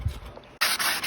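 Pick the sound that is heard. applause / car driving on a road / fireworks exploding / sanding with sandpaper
sanding with sandpaper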